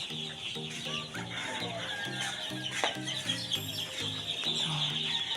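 Gamefowl hens cluck in a steady, rhythmic pattern at a game farm while chicks peep continuously in the background, all fairly close and moderate in volume.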